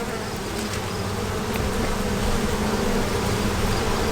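Worker honey bees buzz densely and continuously around hatching brood comb, a loud, close, steady swarm hum with no voices.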